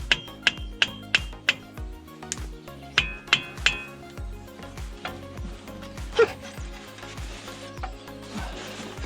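Metal-on-metal taps freeing the axle shaft from the front wheel bearing knuckle of a Trailblazer-type SUV, a run of sharp clinks in quick bursts, close and clear, with faint shop clatter between and no speech.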